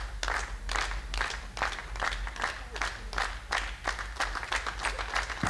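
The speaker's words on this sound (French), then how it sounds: "sous les applaudissements du public angevin" Applause from the home crowd in Angers at a televised ten-pin bowling Pro-Motion Tour match, clapping in uneven swells with a low hum beneath, loud and sustained.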